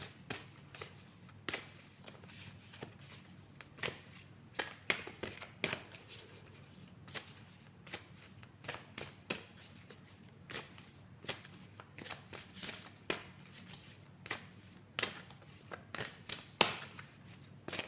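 A deck of cards being shuffled over and over, rapid riffling bursts and sharp snaps repeating at an uneven rhythm, quiet and close, with no talk.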